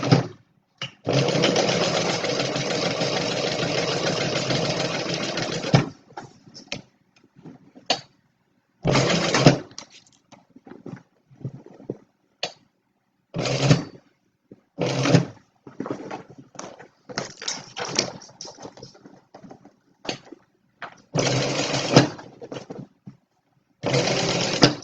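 Sewing machine stitching a Stella Weekender bag, running in a long steady burst and then a string of shorter starts and stops, close and loud with no talk.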